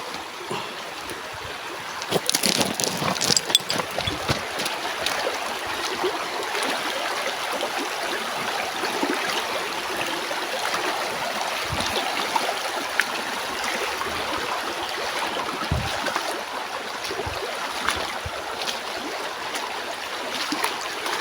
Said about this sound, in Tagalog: Merong ilog dito mga idol.